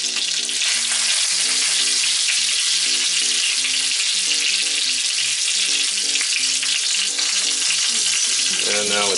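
Chicken katsu cutlets frying in hot oil, a loud, dense, continuous sizzle close up, held by tongs as the sides finish cooking, with light background music and no voices.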